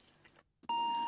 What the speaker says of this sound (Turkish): Anne kapı çalıyor.